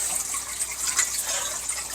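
Water pours into the pot of a phalaenopsis orchid, a continuous bright trickling and splashing at close range, steady throughout with no talking.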